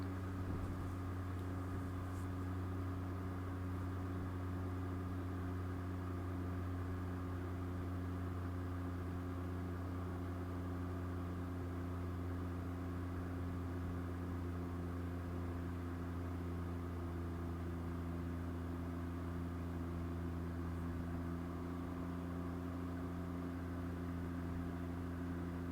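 A 2020 Can-Am Ryker 900 putts slowly through a small town in Oregon, its engine a steady low drone with constant hum and wind rumble for the whole stretch, no voices.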